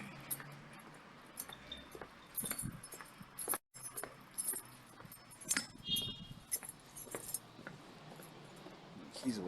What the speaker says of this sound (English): Keys away, sound like a janitor with them all dangling like that.